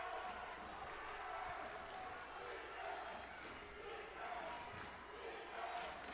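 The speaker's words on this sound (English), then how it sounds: "Now the GICC fans clapping and stomping, hoping their team can get another stop." Basketball fans in a high school gym clap and stomp in a continuous roar of crowd noise during a tense double-overtime game, with shouting and faint low thumps mixed in.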